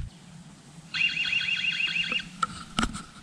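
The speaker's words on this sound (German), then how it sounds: "Es geht schon die Alarmanlage los." An alarm system goes off with a loud warbling electronic tone that rises and falls rapidly for about a second, followed by a few sharp beeps and clunks.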